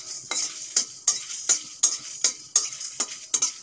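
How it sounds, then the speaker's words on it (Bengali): Whole coriander seeds, dried red chillies and a bay leaf being dry-roasted in a dry wok, with a spoon stirring in regular scraping strokes roughly every half second over a faint crackling sizzle, close and clear with no talking. "জিরে, একটা তেজপাতা আর ধনে আমি শুকনো কড়াইতে ভেজে নেব।"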